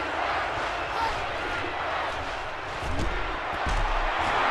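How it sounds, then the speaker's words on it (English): A dense, roaring stadium crowd fills the whole clip, a steady wall of cheering with a few louder swells and thumps near the end. "This crowd is deafening."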